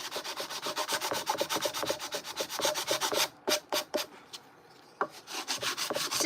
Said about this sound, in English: I'm gonna just sand it, make sure that we don't have any splinters